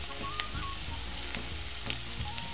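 Onions frying in a pan for a salted hilsha (nona ilish) curry give a steady, close sizzle, with a few soft stirring clicks and scrapes over it.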